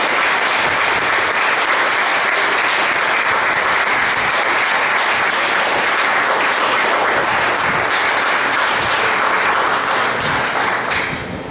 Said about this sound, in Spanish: ¿Puede darle un aplauso a Dios en el cielo?